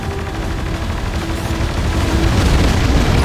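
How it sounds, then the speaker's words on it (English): Naval frigates in Battalion Wars 2 fire at an enemy bomber, producing a dense, continuous roar of booming gunfire and rapid bursts that stays loud and steady from start to finish. "Use your frigates to destroy it!"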